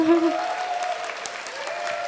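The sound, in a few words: concert audience applause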